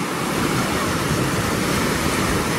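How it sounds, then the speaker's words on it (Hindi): Floodwater from a breached canal rushes through a low-lying, submerged neighborhood, a steady, loud broadband roar of churning water close by with no letup and no voices. "सारा का सारा पानी इधर आ रहा है, इस साइड कुछ भी आगे नहीं जा रहा"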